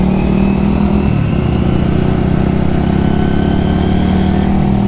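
Honda CD 200 Roadmaster classic motorcycle engine running steadily while ridden, a loud, close, continuous mid-pitched rumble with a slight shift in tone just after the first second and no talking.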